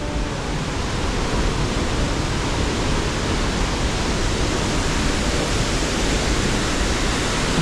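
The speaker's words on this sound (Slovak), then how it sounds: "Pekný vodopád." Waterfall cascades near Pakse, Laos: a dense, steady roar of falling water, loud and close, fills the whole stretch without breaks and without any voices.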